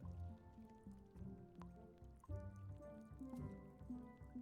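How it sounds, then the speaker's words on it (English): Water drips inside a leaky place in the Return to Monkey Island video game, faint, irregular droplets plopping and squishing over a soft background tone. "I don't remember this place being so leaky."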